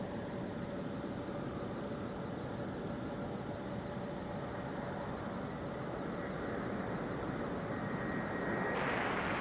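A jet engine roars as a plane takes off in winter from runway 17 at Minneapolis–Saint Paul airport. The rumble is steady and fairly distant, and a rising whine swells near the end.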